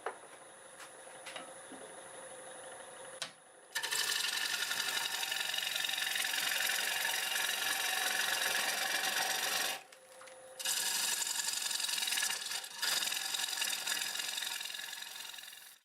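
A wood lathe spinning at about 725 RPM while a 5/8 bowl gouge cuts a wooden bowl, giving a steady, loud rasping hiss broken by two short pauses where the tool lifts off, over a faint motor hum.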